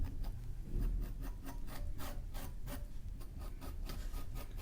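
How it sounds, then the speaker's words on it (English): Repeated rhythmic scratching strokes of a tool scoring the seams of a stiff clay slab, close and fairly quiet, with short rasping bursts in quick succession and no talking. "I'm going to go ahead and score all my seams."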